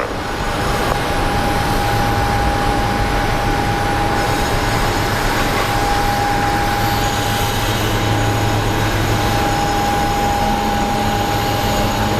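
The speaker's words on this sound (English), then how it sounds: "We have a KC-135 departing" A KC-135 military jet departs Phoenix Sky Harbor with a loud, continuous, close engine roar. A piercing steady whine sits over dense broadband rumble, unbroken throughout.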